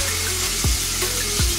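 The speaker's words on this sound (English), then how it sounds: "I usually just like throw the hair right under the tap" Tap water runs steadily into a sink while freshly red-dyed human hair wig is rinsed under it, a constant close rushing splash with a couple of brief low gurgles.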